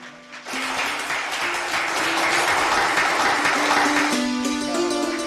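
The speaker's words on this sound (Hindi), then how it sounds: "उसमें कई सत्संग को लेकर के मैं आप सबके करतल ध्वनि से इनके स्वागत को मैं चाहूंगा" An audience at a devotional Baba Ramdev Ji katha applauds in welcome. Dense, sustained clapping starts abruptly and holds steady under faint musical tones.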